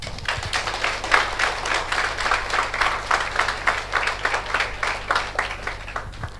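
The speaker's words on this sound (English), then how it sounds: "kindly give them another round of applause" An audience at an indoor hall in a youth center gives a steady round of applause for chief guests, with dense, rhythmic clapping that stays close and even, dipping a little at the end.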